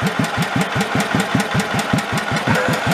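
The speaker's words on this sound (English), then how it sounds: "like how slow can you make an engine go? That's slow." The engine of an old Batmobile, left 40 years under a tree, idles extremely slowly with a steady, loud chain of evenly spaced putts, about five a second, close up with no voices.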